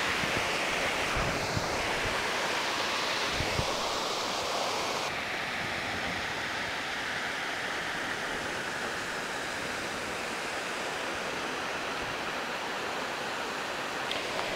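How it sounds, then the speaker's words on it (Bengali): Mawsmai waterfall in Cherrapunji, Meghalaya roars as a constant, dense rush of falling water heard from nearby, steady and unbroken from start to finish. "এখান থেকেই ফলস পড়ছে"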